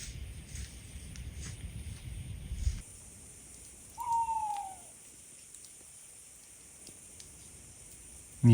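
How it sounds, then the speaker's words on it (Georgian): A single bird call rings out at night in a forest near a tent, a short clear whistled note standing alone against quiet background noise, followed by a few faint rustles and a brief close knock at the end. "ეს რისი ხმა არ ვიცი. არა, ფრინველია."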